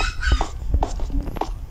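A dog gives several short, loud, close barks or yelps at an uneven rhythm, with no talk over them.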